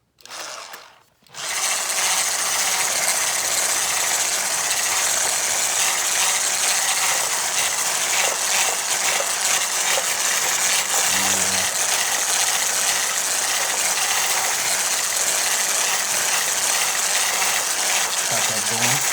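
A Braun electric mixer runs steadily through vegan gluten-free cranberry muffin batter, a loud, continuous whirring and rattling drone that starts after a short pause and holds at constant level to the end.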